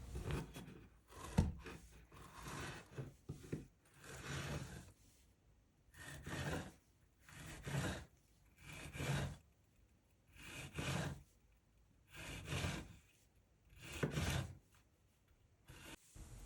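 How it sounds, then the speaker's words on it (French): A bread knife saws through pear halves in about ten regular rasping strokes, each a soft, close, rhythmic scrape repeating roughly every second and a half. "Puis coupez chaque moitié de poire. Pour ça, j'utilise un couteau à pain."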